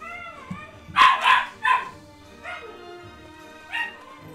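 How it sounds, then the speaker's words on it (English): A dog in a Final Fantasy Mobius PC game gives a few loud, close barks and yips followed by softer whimpering whines, with no talk over it. "Why does my dog sound like a chicken?"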